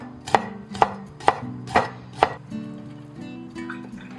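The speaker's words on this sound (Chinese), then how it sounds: "然后直接切片" Cooked Yunnan sausage is sliced with a knife on a board, five crisp evenly spaced chops followed by softer scraping taps, close and clear with no speech.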